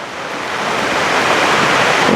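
Floodwater gushing and flowing into land from higher ground, a steady broadband rush that swells slightly louder over the couple of seconds, with no voices over it.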